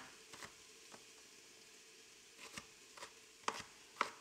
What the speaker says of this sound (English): I'm gonna finish chopping this onion real quick.